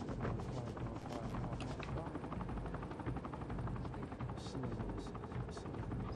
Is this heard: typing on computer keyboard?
no